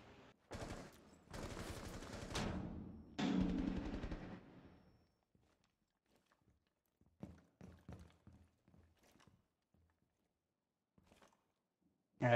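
Gunfire erupts in Rainbow Six Siege during a Terrorist Hunt on Realistic difficulty. Several seconds of rapid automatic bursts cut off sharply, then scattered thumps and footstep-like knocks follow in near silence before one more sudden crack.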